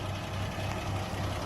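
A 1979 Toyota Land Cruiser FJ40 engine idles with a steady low rumble, close and even, heard briefly on its own.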